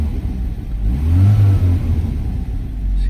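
A Saab 900 Turbo with the 8-valve engine revs loudly and close up, its steady engine note rising and holding for a few seconds with no one speaking.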